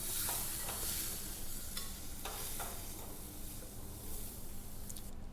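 Onions, tomatoes and chillies fry in hot oil in a pan with mustard seeds and cumin, giving a steady sizzle with occasional stirring scrapes and soft pops, close and without talk.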